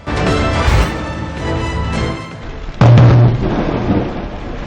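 Lightning striking a utility pole in Malabon during heavy rain: a steady roar of downpour and rumbling thunder, then a sudden loud crashing burst near the end that fades back into the rain.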